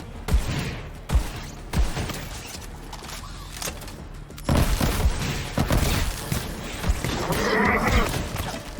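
Rapid blasts from a Rick and Morty-themed legendary shotgun in Borderlands 3 ring out in a quick series of sharp, loud reports with some mechanical clatter between them, and no one speaks.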